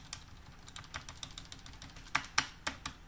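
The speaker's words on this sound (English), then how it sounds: "We can now type, we can type things correctly." Typing on a computer keyboard at a desk while a Raspberry Pi is set up, giving a string of close, crisp key clicks at an irregular pace, with a couple of sharper strokes near the end and no talking.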